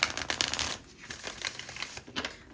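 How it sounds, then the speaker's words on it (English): A deck of tarot cards is shuffled by hand, producing quick, close riffling and flapping bursts in a dense run at the start, then scattered softer taps and slides. "Get one more shuffle."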